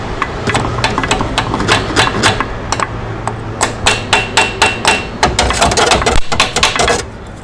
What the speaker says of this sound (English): we just get a hammer and just gently make sure it's seated in properly